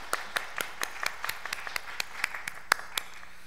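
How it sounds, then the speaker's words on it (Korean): Sparse hand claps in a church congregation during Sunday worship, a dozen or so distinct slaps spread unevenly over a few seconds, faint and fairly near. "박수하겠습니다"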